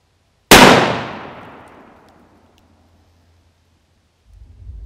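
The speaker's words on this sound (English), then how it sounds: "We are gonna take a shot with the 58 grain against our level 4 ceramic tile plate" A .243 Winchester rifle firing a 58 grain round at a level 4 alumina ceramic body armor plate about 45 feet away, producing a single loud sharp crack with a long rumbling decay, followed by faint low wind noise.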